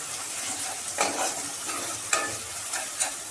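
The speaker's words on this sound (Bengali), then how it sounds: "ভালোভাবে মশলাটাকে নাড়তে হবে" Spoon scraping and stirring thick masala in a pan for a Bengali shankar fish kasha, with several distinct scrapes over a soft, steady sizzle, close and moderately loud, no talking.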